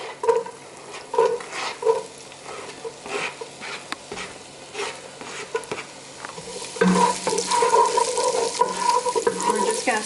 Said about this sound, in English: We're just going to saute these till they're softened, just a couple of minutes.